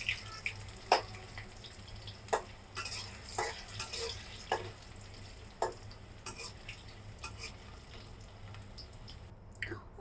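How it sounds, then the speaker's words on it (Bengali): Potatoes frying in leftover oil in a pan, a low steady sizzle broken by scattered clinks and scrapes of stirring, heard close and alone with no talk. "অবশিষ্ট যে তেলটা আছে তাতে আমি আলুগুলো ভেজে নিব"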